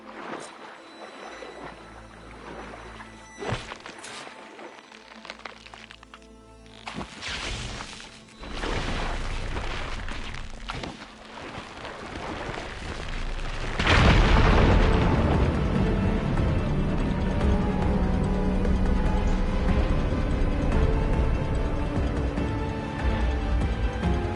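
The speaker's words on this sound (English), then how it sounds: "Igniting that fire gleam should clear it." Fire gleam ignited to blast away rubble in the video game Horizon Forbidden West; a sharp pop and whoosh builds into a loud, sustained rumbling explosion that roars on for several seconds after earlier mechanical clanks.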